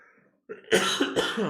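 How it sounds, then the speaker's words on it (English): A couple of harsh, close coughs right after a brief quiet moment, loud and abrupt with no talking. "Yeah, I need to cough."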